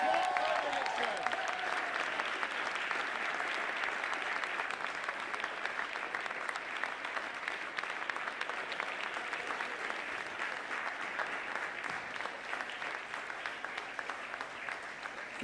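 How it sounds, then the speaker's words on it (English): An audience applauds the Policy Idol 2017 prize winners with sustained, dense clapping that fills the room at a steady level from start to finish, with a brief voice at the opening. "Keep clapping, keep going."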